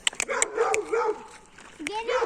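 Dogs bark and yip in short, close bursts outdoors in the dark, with several sharp barks spaced through the moment and whining tones between them.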